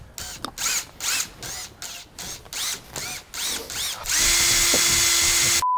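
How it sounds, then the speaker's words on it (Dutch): A power drill drives a screw into wooden planks up close, revving in several short bursts before settling into one long, steady, loud whine. "Mensen, we gaan nu de schroef erin douwen, zodat ze aan elkaar zitten."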